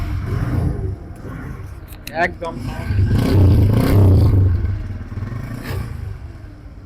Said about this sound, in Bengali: বাইকটি যদি স্টার্ট দিয়ে আপনাদের সাউন্ডটা শোনাই দেই